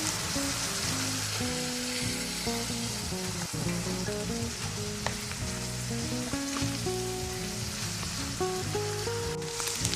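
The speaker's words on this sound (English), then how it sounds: "Now we're going to let our ground beef continue to cook until it's brown all the way through." Ground beef sizzles steadily while browning in a pan with vegetables for Cajun dirty rice: a continuous close crackling fry with occasional stirring clicks, no talking.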